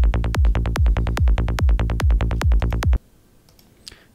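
A psytrance kick and bassline without a stereo layer pounds in a tight, rapid, evenly spaced pulse for about three seconds, then cuts off abruptly to near silence with a faint click.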